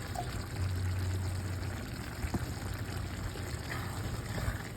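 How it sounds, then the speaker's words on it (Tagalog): Baked beans poured into a cooking pot of chicken menudo, a thick wet glugging pour running steadily for a few seconds close up, with no talk over it. "ilagay na natin yung ating baked beans"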